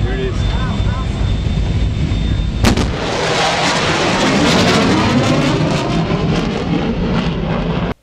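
Sonic boom from a rocket travelling faster than 750 mph: one sudden sharp blast breaking in after a quiet stretch, followed by a long, loud rumbling roar that holds steady until the end.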